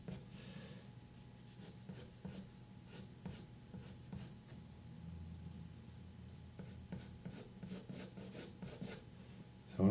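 A pencil drawing lines on paper while sketching a cartoon reindeer, with steady close scratchy strokes in quick repeated bursts over a low background hum.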